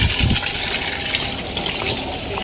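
Water gushing steadily as a container is filled at a temple, a loud continuous rush with no pauses that cuts off abruptly at the end.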